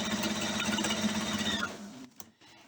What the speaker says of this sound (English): you line it up at the top on one side, and then you just start sewing